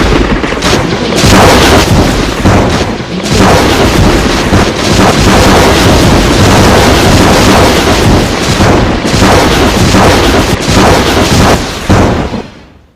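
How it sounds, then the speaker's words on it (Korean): Old archival war recording of 105mm howitzers firing toward advancing tanks in July 1950, heard as loud, rough, distorted booms and heavy rumble over constant wind-like noise for most of the span. "중미령 고개에서 105mm 국사포로 밀려오는 북한군 탱크를 향해 일제히 발사하는 미 스미스 포병대가 되겠습니다."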